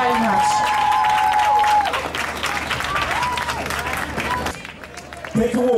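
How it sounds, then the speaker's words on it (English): An outdoor crowd at a Battersea Park community band performance gives a sustained round of applause, dense clapping and cheering mixed with chatter that fades slightly near the end. "Can I have another round of applause for them"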